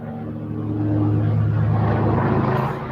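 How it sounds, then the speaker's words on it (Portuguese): A helicopter passes overhead outdoors, its low droning rotor rumble swelling steadily and staying loud and close throughout. "Agora tá passando um helicóptero."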